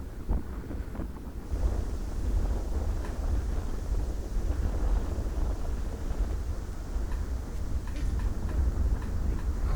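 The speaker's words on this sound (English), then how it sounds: "You can hear and see significant wind for these players to deal with." Strong wind blows across an outdoor disc golf course at a national tournament, a constant low rumbling buffet against the microphone that never lets up, with no speech.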